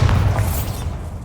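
A Bombarda blasting spell cast in the video game Hogwarts Legacy: a loud, deep boom at the start that rumbles and fades over about a second, with no talk.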